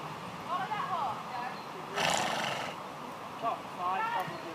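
Horse neighing during a riding lesson, a couple of short whinnies heard at moderate distance, with a burst of louder noise midway and a person talking in the background.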